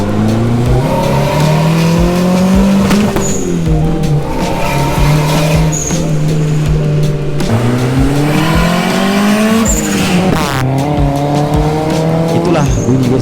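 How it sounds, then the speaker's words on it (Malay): A turbocharged Proton Wira with a 4G61T engine making about 190 horsepower revs repeatedly. Each loud rise and drop of the engine ends in a sharp hiss and flutter from the wastegate, about four cycles in a row. "Itulah bunyi wastegate yang digila-gilakan."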